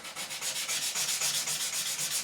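Fine 2000-grit abrasive rubs back and forth over the frets of an Ibanez Iceman guitar during a fret level, a close, rhythmic scratchy swishing in quick even strokes, with no talking.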